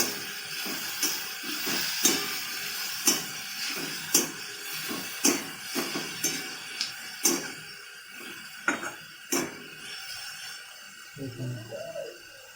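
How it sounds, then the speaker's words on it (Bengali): Chopped vegetables for Maggi noodles sizzling in a pan with a steady hiss, broken by a regular series of metallic scrapes and taps as a spatula stirs them, fairly close and quiet, with no talking. "সবজিগুলো একটু ভাজা ভাজা করতে হবে, তবে পুরো ভাজতে হবে না লাল করে"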